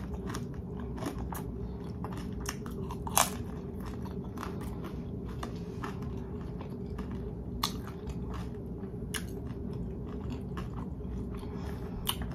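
Close, crisp chewing and crunching of fried pot stickers eaten with sauce and sriracha, repeated bites and mastication over a steady low background hum, with no speech.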